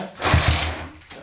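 Yamaha Jupiter motorcycle engine being kick-started, a brief close mechanical churn with a couple of low thumps from the kick, lasting about a second.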